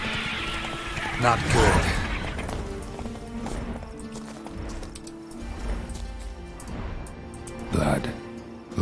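Geralt's horse Roach in The Witcher 3 clip-clops along at a run, hoofbeats mixed with game music and effects, with someone speaking briefly over it.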